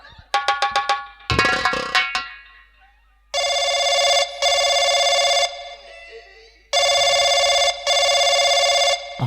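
Telephone ringing on a call to a police station: a few sharp bell strikes up front, then two long, loud electronic ring bursts with short breaks between them, each cut off abruptly, close and alone.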